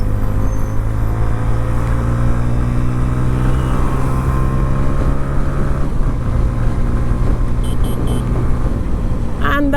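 A Honda CB 125 Hornet motorcycle pulls along a highway, its engine drone holding steady and loud with road and wind rumble beneath, and a brief higher mechanical whine near the end.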